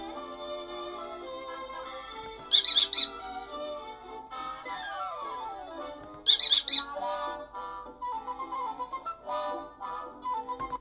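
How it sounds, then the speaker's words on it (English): A cartoon rabbit animation squeaks twice, each a short bright high-pitched burst standing out over steady background music. "click my rabbit here, it squeaks"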